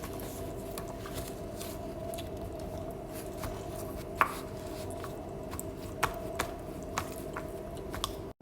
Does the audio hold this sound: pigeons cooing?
no